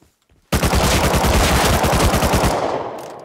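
Video game machine gun fire erupts after a short silence and hammers in a fast, continuous loud burst for nearly three seconds before cutting off and fading.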